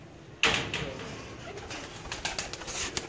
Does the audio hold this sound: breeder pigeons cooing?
yes